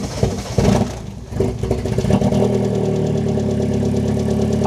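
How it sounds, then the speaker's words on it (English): A cheap used Mini Cooper S with fault codes and almost no fuel cranks roughly and struggles, then catches and settles into a loud, steady idle close to the microphone, with no talk. "Let's fire the engine up."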